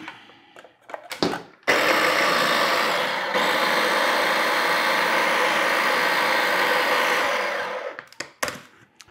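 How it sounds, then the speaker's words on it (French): A kitchen machine blending pickle relish with pickle juice, running as a loud, steady motor whir for about six seconds after a few handling clunks, then cutting off into clatter. "Puis, on va partir la machine."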